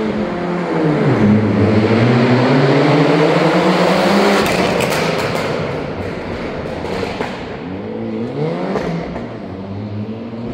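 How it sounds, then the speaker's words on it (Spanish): A rally car at the Rally Cordobés stage in Esmeralda, Santa Fe, drives past near a silo and shed. Its loud engine note rises and sweeps through the gears, then fades and swells again as it passes close by. "Acá, por este silo, por este galpón, va a entrar el auto."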